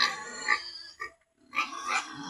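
Close pigs grunt and snort in short nasal bursts with a brief pause between them, loud and rough.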